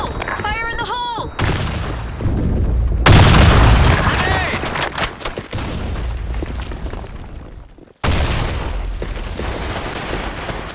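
Heavy explosions and gunfire in the video game SandStorm II: loud, booming broadband blasts at intervals, with a deep rumble in between and a voice calling out.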